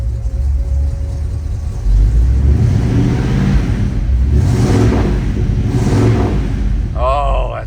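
1958 Oldsmobile Super 88 V8 cranking and firing up, then settling into a deep, steady, close rumble with a couple of swelling revs. A voice speaks briefly near the end.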